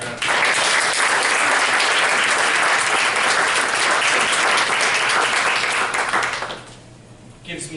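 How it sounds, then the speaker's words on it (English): Applause from the audience at a school board meeting as graduating seniors stand to be recognized: dense, steady clapping fills about six and a half seconds, then dies out quickly, leaving a brief quiet before faint sound resumes. "we can give them a nice round of applause."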